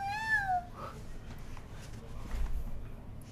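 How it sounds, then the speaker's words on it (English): A short, high cat meow rings out near the start, then only quiet room noise remains. "Do you hear her little meow?"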